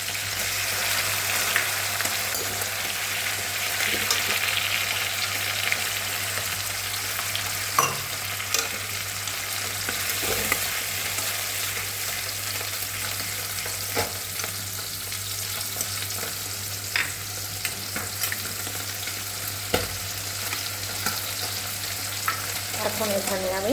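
Onion paste sizzles steadily in a hot pan over softened onions and tomatoes, a continuous close frying hiss broken by occasional stirring clicks and scrapes, no voices.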